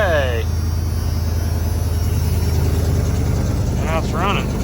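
A 1991 Ford F250 engine runs steadily with a nearly open exhaust through a badly leaking muffler, giving a loud, even low rumble throughout, with voices talking over it.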